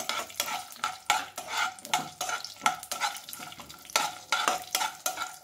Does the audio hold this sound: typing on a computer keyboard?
no